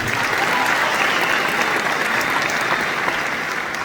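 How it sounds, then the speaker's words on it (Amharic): A large audience claps at length inside the Ethiopian National Theatre in Addis Ababa during a tribute gathering, a dense, loud, sustained applause filling the hall without break. "እባካችሁ አጨብጭቡ"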